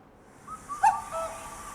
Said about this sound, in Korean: 요건 알죠? 뻐꾸기.